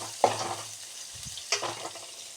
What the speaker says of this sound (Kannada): ಈಗ ಈರುಳ್ಳಿ ಫ್ರೈ ಮಾಡ್ಕೊಳ್ಳೋಣ.